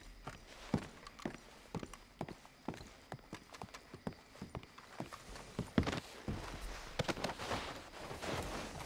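A horse walks at a steady pace in a ranch roleplay video game, its hooves clip-clopping in an even, close rhythm for several seconds.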